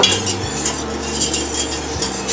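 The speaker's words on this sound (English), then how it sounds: "I'm going to stir that around to just make a roux and to cook that flour a little bit" Spoon stirring flour into melted butter in a pan to make a roux for béchamel, a steady scraping swirl close up, with low kitchen hum and no talking.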